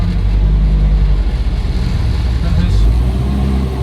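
A 1962 Land Rover Series IIa 88-inch soft top with a 2.25-litre petrol engine idles with a steady low rumble close by. A voice talks over the engine.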